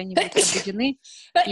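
A single short sneeze cuts into an online webinar, sandwiched between someone speaking Russian before and after it.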